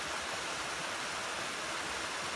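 Water pours over Billy's Creek Weir in a steady, broad rush, close and continuous, with no voices over it.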